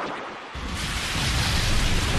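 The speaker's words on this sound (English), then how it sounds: "It's raining in the Colosseum again." Rain effect in the Colosseum stage of a Pokémon Battle Revolution match starts abruptly as a broad hissing downpour with a low rumble, swelling louder and steady to the end.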